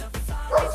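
A pet dog barking in short, sharp bursts indoors, two or three quick barks close by and fairly loud, with no talking over them.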